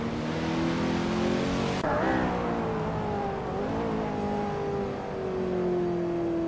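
A 2015 Chevrolet Corvette C7 Z06 race car in a racing video game holds a loud, steady engine roar close up, with a gear change shifting the pitch early on before it climbs again.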